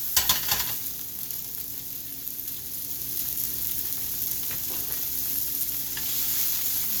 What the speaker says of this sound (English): Saute up our asparagus here.